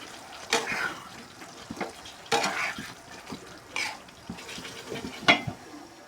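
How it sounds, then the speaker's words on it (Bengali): Chicken being stirred into cooked-down spice paste in a pot for Bangladeshi wedding-style chicken roast, with intermittent scraping and clinking of a utensil against the pot, moderately loud strokes spaced a second or so apart. "চিকেনগুলো দিয়ে ভালো মতো নাড়াচাড়া করে এটাকে আমি সিদ্ধ করতে দেব"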